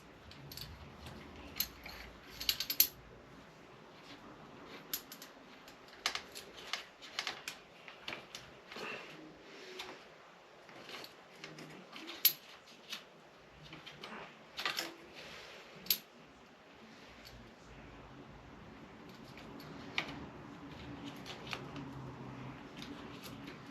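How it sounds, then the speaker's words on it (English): Small screws being worked out of an RC car motor mount, with quiet irregular metallic clicks, ticks and tool handling scattered across a faint background, close and soft, no talking. "See if we can manage to get these other screws out without stripping anything or having to cut."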